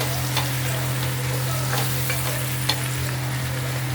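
Tomatoes and green chillies sauté in a pan for a gravy, frying with a constant hiss and soft crackle while occasional stirring strokes clink and scrape against the pan.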